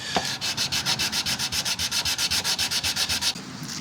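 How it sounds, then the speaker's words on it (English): 240-grit sandpaper wrapped around scrap plywood sanding the top of a banjolin nut, a close, brisk rasping stroke repeated about two dozen times in an even back-and-forth rhythm, then stopping. "it's 240, wrapped around a piece of scrap plywood. Just using that to take down the top of the nut slightly and clean it in the process."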